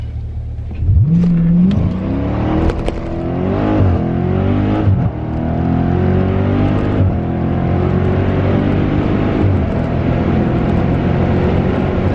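A car engine revs up and holds near 2500 rpm, a steady, loud droning hum with a brief quick blip at the start, alone without talk.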